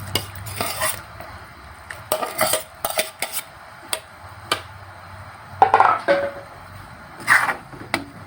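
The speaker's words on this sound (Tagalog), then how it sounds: "At halu-haluin lang natin hanggang sa maiga na ang ating candy." A utensil scrapes and knocks against a pan while papaya candy is stirred, giving irregular clatters and clinks with brief pauses, up close and with no talk.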